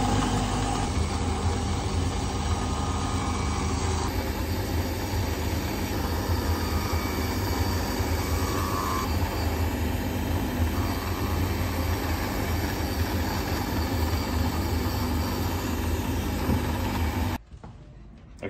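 Shoe-sole machine cutting a groove into a leather sole, with a loud, steady mechanical roar that runs unbroken for about seventeen seconds before it cuts off abruptly.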